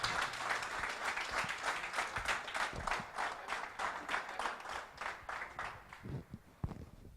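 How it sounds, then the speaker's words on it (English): Crowd applause welcomes Gopichand at an academy gathering: a brisk, steady round of many hands clapping that thins out and fades toward the end. "let's give a big round of applause"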